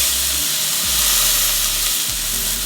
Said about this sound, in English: You should hear this when you put your steak in.